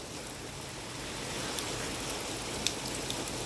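Heavy rain pours steadily during a thunderstorm in Woking town, a dense even hiss with a few sharper drop splashes, no voices.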